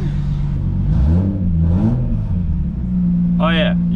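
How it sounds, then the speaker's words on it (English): A VS Commodore ute with an exploded muffler revs loudly, its engine rising and falling in a couple of throaty surges over a steady rumbling idle, with people talking and cheering close by. "we have a whole muffler that's exploded at the back, so she's quite loud"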